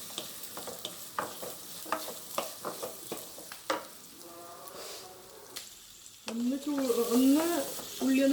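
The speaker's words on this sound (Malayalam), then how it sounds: "നമുക്കൊരു 2 സവാള സ്ക്വയർ ടൈപ്പ് ആക്കി അരിഞ്ഞത് ഇതിലേക്ക് ഇട്ടിട്ട് വഴറ്റാം" Two square-cut onions tossed into hot oil and sautéed for chilli chicken, with scraping stir strokes and a steady sizzle; a voice speaks over the sizzle near the end.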